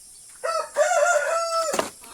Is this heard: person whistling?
no